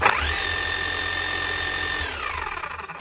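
A Makita HM0860C electric chipping hammer with a repaired burnt-out motor runs at a steady high whine with a low rumble for about two seconds, then winds down as it is switched off.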